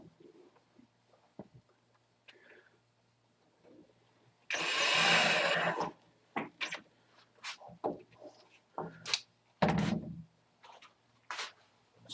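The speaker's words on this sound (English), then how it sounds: "So I'm going to run 3 screws into this." A power drill runs three screws into a wooden block, heard as one long loud whirring burst followed by shorter, choppier bursts and clicks, close by in an otherwise quiet room.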